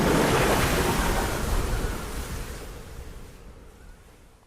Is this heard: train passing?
no